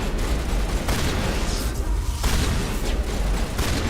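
Shotgun fire in Mass Effect 1 Legendary Edition, heavy blasts sounding at irregular intervals over a dense, noisy combat background, loud and close.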